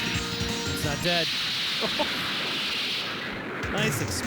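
A game explosion in the shoot-'em-up Air Gallet bursts as a broad, rumbling blast over dense arcade sound effects and music, loud and close, with a person talking over it.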